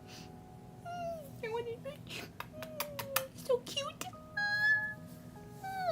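A cat meows repeatedly in short, high, wavering calls from a video playing nearby, mixed with other electronic chirps, while people talk over it.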